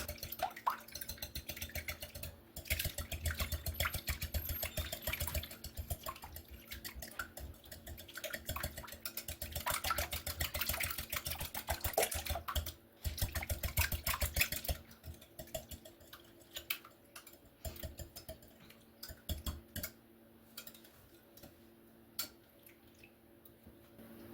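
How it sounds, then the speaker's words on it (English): A whisk beats quiche filling of spinach and chicken eggs in a bowl, giving a steady, rapid, close clatter for most of the stretch that thins into scattered taps near the end. "I'm going to get my whisk, and I'm going to whisk all this together"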